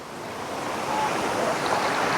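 Strong ocean waves wash in by the sea at sunrise, a steady broadband rush of surf that swells slightly louder and continues without pause.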